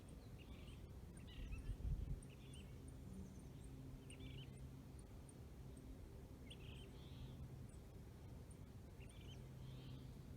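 A male phainopepla, a silky flycatcher perched on a wire in Wildwood Canyon State Park, repeats soft, brief song phrases at a distance, faint against a low background hum.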